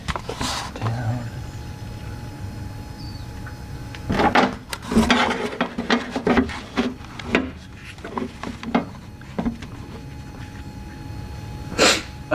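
Sneezes and sniffles during a 2001 VW Passat B5 window regulator repair, several short sharp bursts scattered through the clip, with the clearest ones near the middle and a final burst at the end, close to the microphone.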